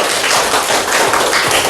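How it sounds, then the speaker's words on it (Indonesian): Schoolchildren in a sixth-grade classroom clapping for classmates, a dense, steady burst of close, bright hand claps filling the short moment without talk. "Iya, tepuk tangan untuk mereka"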